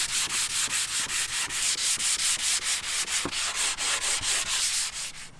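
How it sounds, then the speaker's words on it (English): Wood being sanded by hand with 220 grit sandpaper during a shiplap ceiling install in a Sprinter van conversion, a steady rhythmic back-and-forth rasp of even strokes, close and continuous, with no talking. "We're going to use a 220 grit sandpaper and smooth these puppies out."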